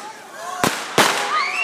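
Fourth of July fireworks, two sharp close cracks a fraction of a second apart over outdoor background noise and distant chatter.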